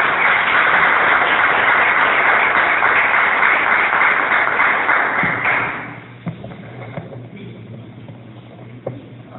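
Church congregation applauding during a Portuguese-language evening service: a dense, muffled roar of clapping holds steady for several seconds, then fades away, leaving a few scattered claps and room noise.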